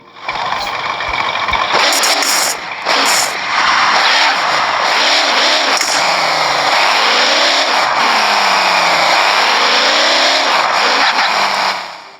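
A powerful car of about 1778 HP in the video game Car Parking Multiplayer, its engine roaring loud and close, revving up and down through repeated rising and falling sweeps, with tire squeal and skidding mixed in for about twelve seconds.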